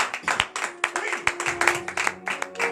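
A congregation at a morning prayer service in Benin claps hard in a rough, repeated rhythm, sharp close hand claps mixed with voices talking and calling over them.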